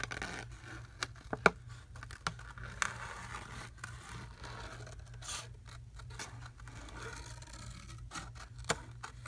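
Scissors fussy-cut paper cards up close, giving soft, scattered snips and light scraping rustles over a low steady hum, with no voices.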